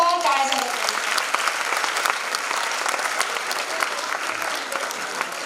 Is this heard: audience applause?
yes